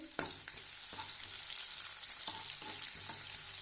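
Sliced onions dropped into hot oil and frying for an egg biryani, a soft, continuous sizzle with faint occasional stirring knocks, quiet and close, no voices.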